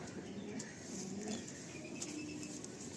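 Madrasi pigeons coo softly and repeatedly over a steady background hiss, with faint chirps and low murmurs in a close, indoor-sounding space.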